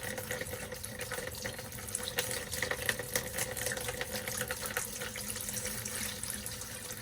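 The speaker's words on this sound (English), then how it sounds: "Pour water a lot up and down up in there." Water pours and splashes steadily and loudly into a camper's plumbing drain while winterizing, a continuous rushing flow with no voices.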